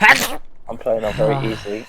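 One loud, sharp sneeze bursts out close up at the start, followed by a person talking.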